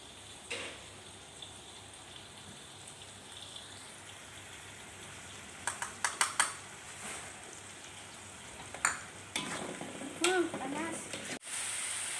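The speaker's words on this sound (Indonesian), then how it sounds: "Sekarang kita aduk-aduk ya sampai mantap." Tuna sambal being stirred in a frying pan gives a steady low sizzle, with scraping bursts of the spatula growing louder toward the end.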